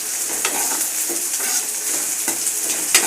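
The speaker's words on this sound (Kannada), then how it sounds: "ಇದನ್ನೆಲ್ಲ ಹುರ್ಕೊತೀನಿ ಈಗ ಸ್ವಲ್ಪ ಎಣ್ಣೆಯಲ್ಲಿ ಫ್ರೈ ಮಾಡಿಕೊಂಡು" Vegetables fry in a little oil for a Raichur-style brinjal dish, giving a steady close sizzle broken by several light scrapes and clinks of stirring.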